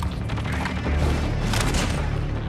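Type 19 rifle fire in a video game: dense, continuous bursts of shots blurring into a loud, rumbling roar with booming low end throughout.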